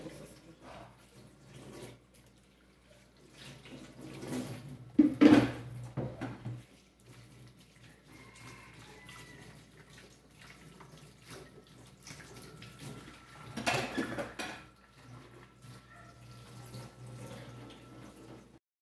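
Dishes being washed in a kitchen sink under running water, with intermittent splashing and a couple of louder bursts of rinsing and clinking at close range amid quieter stretches.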